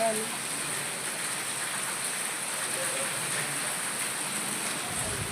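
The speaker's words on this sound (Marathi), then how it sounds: "आमच्याकडे तर खूप मोठा पाऊस पडलाय" Heavy monsoon rain pours steadily in a residential setting, a dense even hiss with gutters running full, close and continuous throughout without a break.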